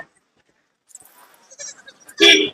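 Jamunapari goats and kids bleat in short, scattered calls after a quiet start, ending in one loud, close bleat.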